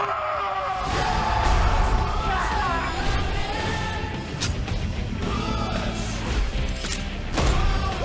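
Gunfire in a tense Peacemaker action scene, rapid shots and sharp impacts crackling over a dense, loud mix of engine roar, skidding and crowd noise, with voices shouting now and then.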